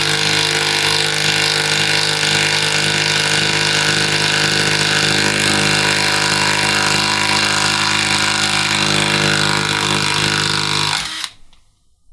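A loud, continuous Makita impact driver whir with a steady rattling hum runs for about eleven seconds while driving a screw without a pilot hole, then cuts off abruptly.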